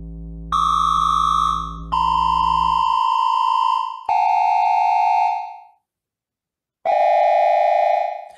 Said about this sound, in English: you'll hear ghost tones of that same A